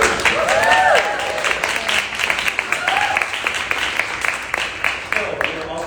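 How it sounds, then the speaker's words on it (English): A live podcast audience breaks into applause, with a burst of clapping and vocal whoops at the start that settles into lighter, scattered claps. "Round of applause just for being here and listening."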